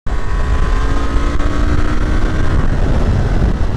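A 2023 Honda Transalp XL 750 motorcycle pulling hard in third gear, its engine a loud, continuous rising drone heard close throughout with no talking.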